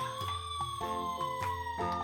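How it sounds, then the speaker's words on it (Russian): A plastic ELC toy fire truck's siren wails in a steady electronic tone with a rising-falling pattern as it moves, accompanied by a rhythmic beeping and mechanical clicking, close and fairly loud. "При движении слышен звук сирены"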